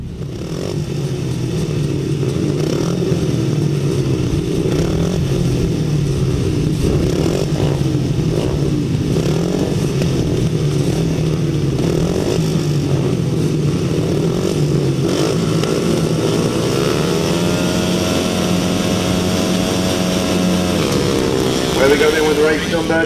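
Grasstrack racing motorcycles at a 2007 memorial meeting, a constant loud drone of several engines revving together that rises in pitch as the race starts, with a commentator talking over it.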